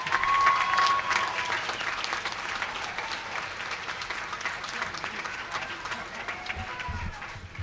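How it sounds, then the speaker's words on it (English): An audience at a university graduate commencement ceremony applauds the graduates with sustained, dense clapping that starts loud and then fades slightly but continues throughout. "Let's give a round of applause to the EMHA graduates."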